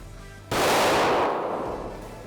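A single pistol shot at shooting practice, a sharp loud crack followed by a decaying echo that trails off over about a second and a half.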